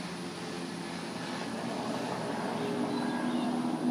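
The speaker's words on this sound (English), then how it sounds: "Oh, it's a helicopter. So loud." A steady, loud rotor roar of a helicopter passing close overhead, a continuous low rumble that swells slightly over four seconds with no talking.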